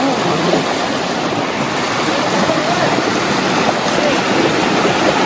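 River water rushes and churns steadily in a loud, continuous hiss near a boat, flowing fast near Kong Lor cave, Khammouane, Laos, with no pauses.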